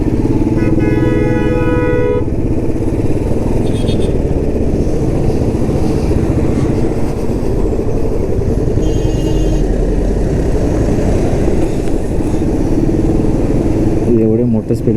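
A motorcycle cruising on the Mumbai–Goa highway gives a steady, loud engine drone mixed with rushing wind, unbroken for the whole stretch.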